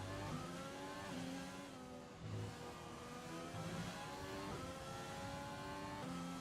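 F1 race car engines from the F1 2020 video game scream steadily with rising and falling revs, several cars close by and loud throughout.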